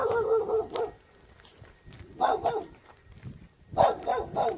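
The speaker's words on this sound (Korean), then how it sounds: "우리 또 멍멍이가 또, 또 반기는구나." A dog at a rural country house barks in several short bursts, first near the start and again twice later, fairly close and loud against quiet outdoor background.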